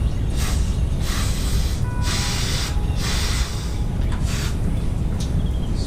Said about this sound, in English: Spray off my spark plugs.